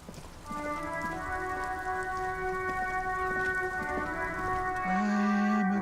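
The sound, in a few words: rain in the video game Disco Elysium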